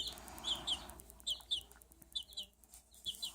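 One-week-old chicks peep in quick, high, faint chirps in short clustered bursts, soft and close in a quiet setting.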